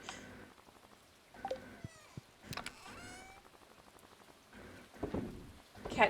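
A cat meows and cries several times, the calls rising and falling, over a steady background of rain and fan noise.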